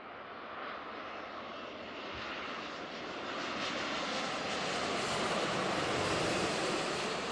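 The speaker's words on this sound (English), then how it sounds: "Japan Airlines 787." A Japan Airlines Boeing 787 widebody jet passes at Seattle-Tacoma airport, a broad, roaring engine wash that swells steadily louder over several seconds, heard alone without talk.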